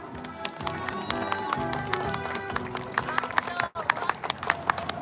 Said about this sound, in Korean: 박수를 모시겠습니다.